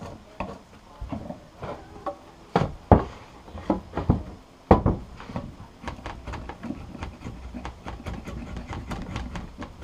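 A chisel knocks the last small bits of wood out of a workpiece for an outboard motor stand, with irregular close taps and a few louder knocks over quiet workshop background and no speech.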